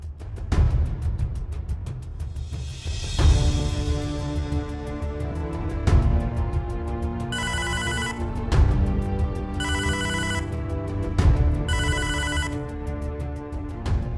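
A phone rings in a hospital scene as someone prepares to call a dead patient's relatives: three clear electronic ringtone bursts spaced about two seconds apart, heard over steady background music.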